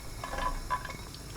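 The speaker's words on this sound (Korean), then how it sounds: "곤약 넣고 센 불로 볶습니다" Burdock and konjac stir-fry in hot oil in a pan over high heat, giving a brief close bubbling sizzle with a couple of brighter crackling spurts.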